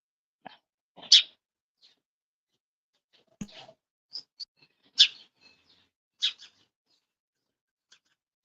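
Sparrows outside giving sparse, short chirps and calls, scattered single notes and brief bursts separated by quiet gaps, fairly clear with no talking.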